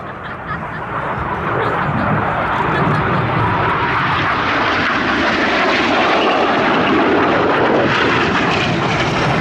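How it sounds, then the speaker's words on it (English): Red Arrows RAF jet aircraft in close formation at the Midlands Air Festival at Ragley Hall, a loud continuous engine roar that swells and holds as the jets pass and turn toward the display line. "Passing with only 30 feet between aircraft, Red 6 and 7 now turn hard towards the display line."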